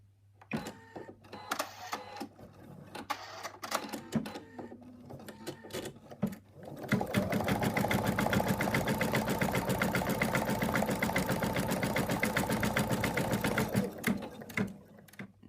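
An embroidery sewing machine stitching an in-the-hoop elephant, starting with intermittent clicks and handling noises, then running into a loud, fast, steady mechanical whirr of rapid needle strokes that continues to the end.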